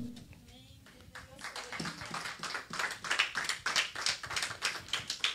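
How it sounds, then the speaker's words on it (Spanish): A church congregation claps in praise, starting after a brief quiet moment and building into steady, rhythmic handclaps that stay fairly soft and distant, with a voice faintly present. "Démosle un fuerte aplauso al Señor."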